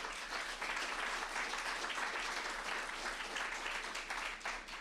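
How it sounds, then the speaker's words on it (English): An audience at an annual general meeting gives a sustained round of applause, dense and even clapping filling the room at a moderate, slightly distant level with no talk over it. "big round of applause to all of you"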